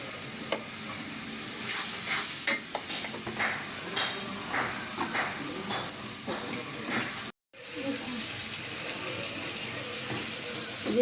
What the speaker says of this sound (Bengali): ধুইয়া শুটকিগুলো শুকা দিছি চুলার নিচে, এগুলো এখন ভাজবো